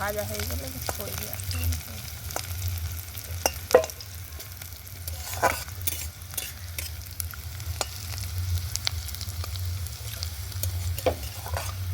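Sliced onions fry in hot oil for biryani birista, a steady close sizzle broken by frequent stirring scrapes and clicks.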